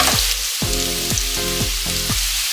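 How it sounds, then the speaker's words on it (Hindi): Potatoes fry with curry leaves and cumin seeds in hot oil, a bright continuous sizzle up close with soft rhythmic stirring strokes in the pan about twice a second. "आलू फ्राई होते हुए 2 से तकरीबन 3 मिनट हो चुके हैं।"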